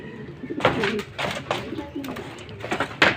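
A pearl-eyed bird coos repeatedly in soft, low, rounded calls, close by, with faint background noise.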